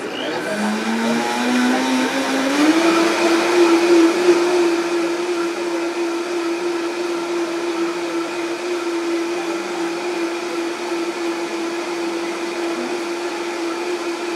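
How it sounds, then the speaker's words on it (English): A blender whirs through a tahini dressing, spinning up after a moment to a loud, steady motor hum that holds at one pitch for a long stretch. "So I use the blender"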